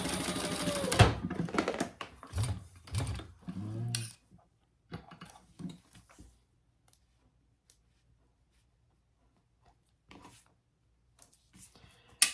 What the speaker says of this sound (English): I'm just going to do a little top stitch